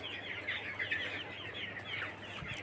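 Several chickens suffering from a cold cluck and chatter faintly at a distance, the calls overlapping continuously against quiet background noise.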